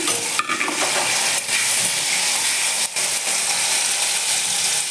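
Cashews and raisins fry in ghee and white oil, giving a dense, steady sizzle with occasional stirring scrapes and clicks, close and loud throughout.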